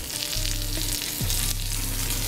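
Cremini mushrooms fry in a pan with a steady, close sizzle, and brief stirring noises come through over a low hum.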